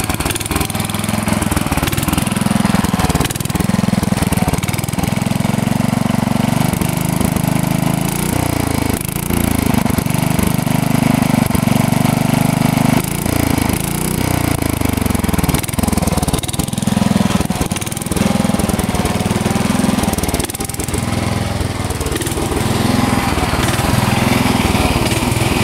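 A 1967 Suburban engine runs steadily for the whole stretch, its low, even rumble close and loud with slight wavering in tone and no voices.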